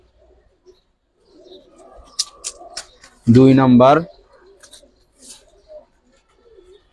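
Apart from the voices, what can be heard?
racer pigeons cooing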